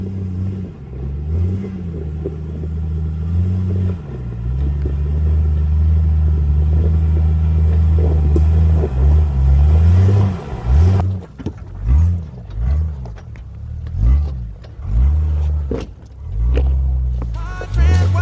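An overland vehicle at full throttle, its engine roaring loud and close and rising in pitch through repeated gear changes. Later the revs surge and drop in quick cycles.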